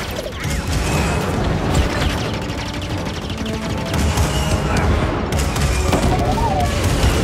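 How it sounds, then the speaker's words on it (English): A cannon firing in the video game Star Wars Jedi: Fallen Order, heard as dense, loud mechanical blasts and crashing booms with a constant rumbling din throughout. "So that fires the cannon."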